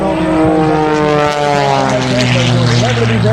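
A propeller airplane at a 2017 northeastern Pennsylvania airshow drones loudly and steadily nearby, its engine note holding a sustained hum throughout.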